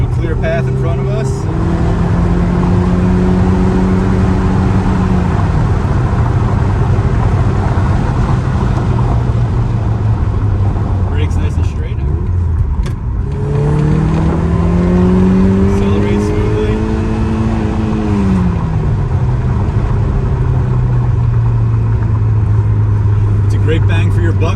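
A 1987 Lotus Esprit Turbo accelerating hard along a farm road, heard from the passenger seat as the engine climbs through the gears in two long rising pulls with a shift between, loud and continuous under someone talking.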